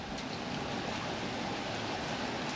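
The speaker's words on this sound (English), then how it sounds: "we are getting lots of good rain" Steady rain falling during a stretch of heavy Central Texas spring thunderstorms, a dense continuous hiss that stays even and close throughout with no voices.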